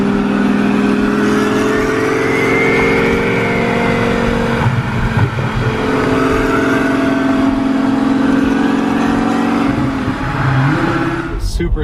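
A 2000hp Lamborghini engine runs for the first time, loud and steady, its pitch rising and falling with revs throughout, ending with a short burst of noise.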